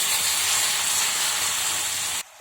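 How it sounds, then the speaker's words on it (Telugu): Ridge gourd pieces hit hot oil tempering in a pan, setting off a loud, steady hiss of sizzling that holds evenly for about two seconds before cutting off abruptly. "పోపులో ముందుగా కట్ చేసిన పొట్లకాయ ముక్కలు వేసుకుందాం."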